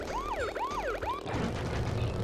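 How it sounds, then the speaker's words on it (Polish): Police car sirens in the Crash Bandicoot 3 video game wail in repeated rising and falling sweeps, loud over a constant engine-like game background, then fade into busy noise. "Bo radiowozy cały czas jechały sobie tutaj w lewo i w prawo"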